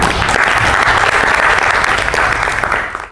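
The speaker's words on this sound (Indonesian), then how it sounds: "Baik, tepuk tangan." Classroom applause fills the room, a dense, loud, even patter of many hands clapping steadily for about three seconds before easing slightly at the end.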